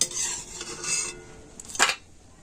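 Fried kurkure snacks made from leftover rice are scooped out of a frying pan with a metal utensil, giving a few quick scraping and clattering strokes up close, with no speech.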